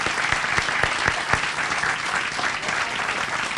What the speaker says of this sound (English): Can we, John Giannetti and the artists, can we give them another round of applause for a great